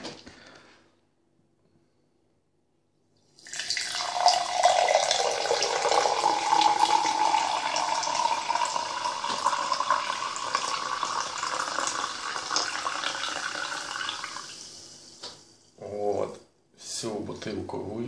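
Rychal-Su mineral water poured from a 0.5-litre bottle: a steady, close trickle and splash lasting around ten seconds, rising in pitch as the glass fills, with brief clinks and a voice speaking afterward.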